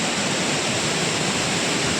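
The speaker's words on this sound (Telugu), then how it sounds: "నీళ్ళు అయితే ఎలా పోతున్నాయి చాలా బాగా పోతున్నాయి" Strong river water rushing under a bridge near Devarakadra after days of heavy rain, a steady, dense roar that fills the whole stretch without a break and without any voices.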